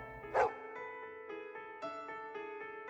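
Dogs barking in a storybook sound effect: a few quick yips and barks near the start, then softer whimpering tones over a tonal musical bed.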